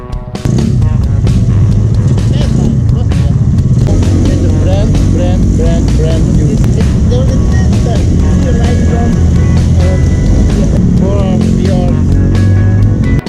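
A 2013 Yamaha Mio Sporty scooter engine runs steadily with its exhaust humming close by, a continuous loud idle throughout as people talk over it.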